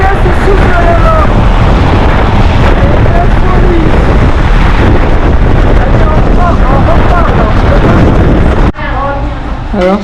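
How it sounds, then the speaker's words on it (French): Strong wind roars and buffets the microphone loudly and continuously at Pamukkale, Turkey, with voices talking faintly underneath before the gusts briefly drop. "je vais vous montrer le vent comme il souffle là."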